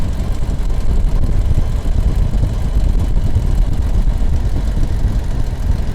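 A Rotec radial engine on a Renegade aircraft idles at low RPM, a loud, close, steady low rumble with a dense pulsing throb and no voices over it.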